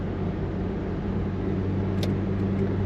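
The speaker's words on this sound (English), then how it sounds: "Quiet exhaust, I would say close to stock sounding exhaust on this car." A 1978 Chevrolet Chevette hatchback with a quiet, near-stock exhaust drones steadily from inside while driving, a smooth, even low rumble with no voices.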